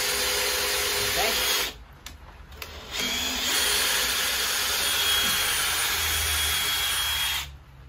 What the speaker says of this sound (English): And now we have our hole pre-drilled.